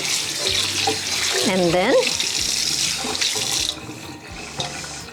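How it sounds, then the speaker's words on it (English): Tap water runs steadily into a sink as a stainless steel filtered pet water bowl from a Petsafe Seaside cat fountain is rinsed. The flow is close and continuous, with a brief spoken phrase over it. "Rinse it thoroughly."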